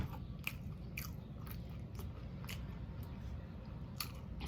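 Fried whiting fish sandwich being bitten and chewed up close, with soft crunchy bites and wet mastication repeating about every half second, alone with no talking.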